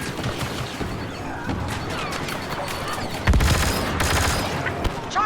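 Rapid turret gunfire in the Star Wars Battlefront II shooter on the Tatooine map, dense sustained bursts and blasts amid a busy battle din, with a louder impact-heavy surge midway through.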